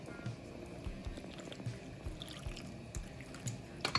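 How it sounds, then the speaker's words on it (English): Water is poured over peeled plantain pieces in a kitchen, a soft, faint trickle and splash with small drips and clinks. "I have my plantain now that already peeled, so I'm gonna add some water"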